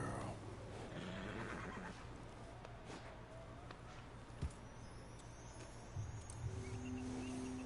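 A horse in Red Dead Redemption II whinnies over a steady background hum, with a few faint thumps and soft footsteps nearby.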